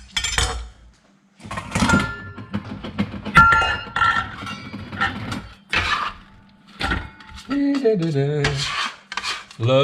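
A board scraper drags across a kitchen cutting board in several close, uneven rasping strokes, some with a faint squeaky ring.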